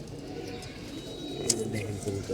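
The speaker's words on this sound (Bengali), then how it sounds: "দেখেন কবুতর পেয়ারটা," Pigeons cooing softly in a loft, low murmuring coos under a steady background with a brief sharp chirp midway, while a person talks nearby.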